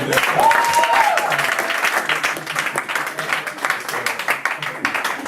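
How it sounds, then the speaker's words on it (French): A church congregation at a Father's Day service breaks into steady applause, dense clapping that holds strong and then thins slightly, with a few voices mixed in. "On va applaudir Cécile."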